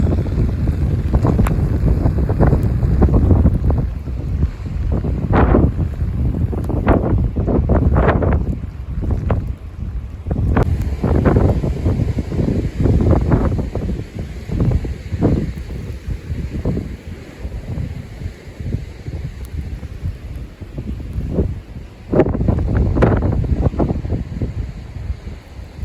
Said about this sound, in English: Another gust.